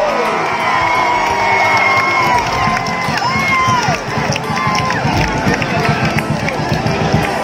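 A crowd at a university sports opening ceremony cheering, shouting and clapping for a team, loud and continuous, with an announcer's voice over it.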